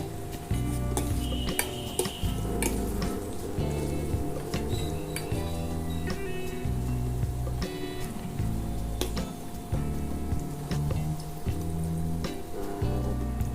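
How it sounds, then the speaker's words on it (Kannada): Chana dal, dried red chillies and curry leaves fry in hot oil with mustard seeds in a pan, giving a steady close sizzle under frequent metallic clinks and scrapes of a spoon stirring. "ಒಣಮೆಣಸಿನ್ಕಾಯಿ ಹಾಕೊಂಡು ಫ್ರೈ ಮಾಡ್ಕೊಳ್ಳೋಣ."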